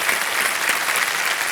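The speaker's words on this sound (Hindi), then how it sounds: "तालियां बज जाए इनके लिए।" Studio audience at a televised quiz show breaks into steady, dense applause, loud and continuous throughout without pause.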